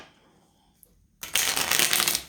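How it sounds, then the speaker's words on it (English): Tarot cards being shuffled by hand: after a quiet pause with a faint tap, a dense, steady riffling burst runs for about a second, close and fairly loud, with no talking. "So I've already been shuffling the cards."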